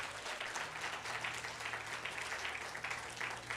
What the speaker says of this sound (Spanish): alguien le puede dar un aplauso a Dios en esta noche